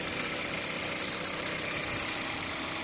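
A 1500 cc four-cylinder Mitsubishi Xpander engine with about 134,000 km on it idles smoothly and steadily, a close, even hum with no one speaking.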